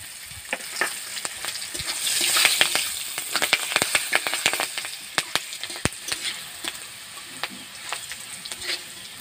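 Green chilli, cinnamon and peppercorns fry in hot oil for a village-style egg korma, giving a steady close sizzle dotted with sharp crackles and pops throughout, with no talking.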